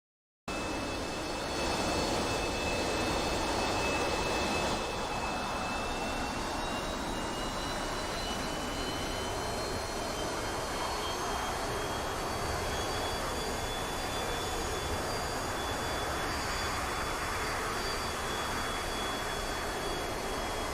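Jet aircraft engine in a flight simulator game while the plane taxis, a continuous broadband roar with a steady high whine holding throughout.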